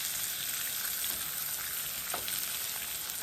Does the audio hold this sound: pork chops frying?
yes